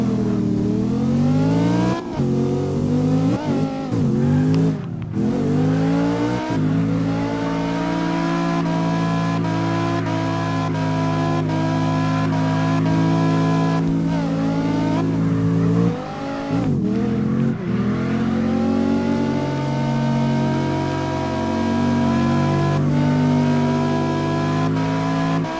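Dodge Viper SRT engine drifting in CarX Drift Racing 2, a loud continuous revving roar with rising and falling pitch sweeps as the throttle is worked, briefly cut twice before surging back up, no talking.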